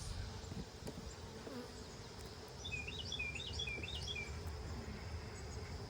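Honey bees buzzing during a hive check, a steady low hum with faint wing whine close by, plus a few soft chirps from birds in the distance; no one speaks.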